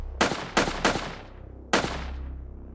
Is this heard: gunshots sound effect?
yes